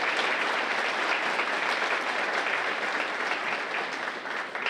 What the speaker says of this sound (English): please give our Kellogg Society members one more big round of applause